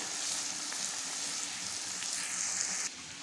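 Spices tempering in hot ghee and sesame oil sizzle steadily and close up, a bright crackling hiss that carries on without pause and drops slightly in level near the end.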